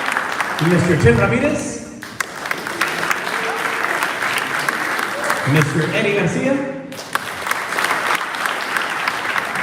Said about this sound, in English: a nice round of applause for our interim superintendent, Dr. Jesus Chavez